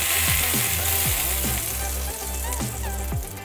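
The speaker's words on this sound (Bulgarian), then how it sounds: "вече се преместихме на котлона и ще започваме да готвим палачинките" Colored pancake batter sizzles steadily in a hot greased frying pan on a stovetop, a continuous loud crackle with occasional faint scraping or stirring clicks and no speech.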